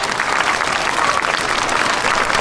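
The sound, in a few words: audience applause for teachers at school assembly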